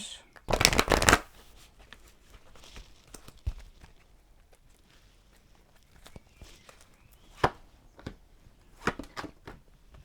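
A Healing with the Angels oracle card deck shuffled by hand, one brisk, loud riffle burst at the start followed by softer taps and card handling.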